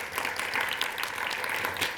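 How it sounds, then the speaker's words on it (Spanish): Audience applause at a youth public policy forum, a steady wash of many hands clapping at moderate volume throughout. "ahora sí les pido un fuerte aplauso también para él"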